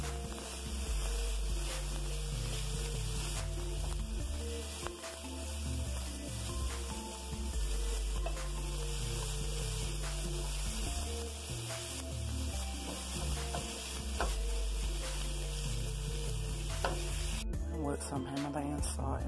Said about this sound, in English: Got my pan heating up so I can put the garlic and onions in here before I put the meat in there